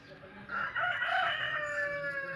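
A rooster crows loudly and close by in a drawn-out call from the chicken coops on a farm, with hens clucking faintly underneath.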